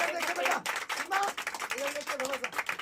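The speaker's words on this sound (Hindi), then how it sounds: "ये मंगल के गले में तमाम तालियां बज रही हैं।" Wedding guests clap steadily in a dense, close patter, mixed with overlapping voices and singing-like tones throughout.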